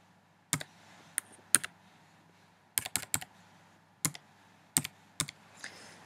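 A user ID being typed on a computer keyboard: soft, sparse key clicks in small irregular clusters, close and quiet against a faint background hum.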